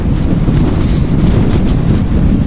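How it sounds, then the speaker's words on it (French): Strong headwind in the Sahara in Mauritania, met while bikepacking, roars continuously into the microphone as a heavy, buffeting rumble with no pauses. "Là ça fait 4 jours que je lutte contre le vent de face."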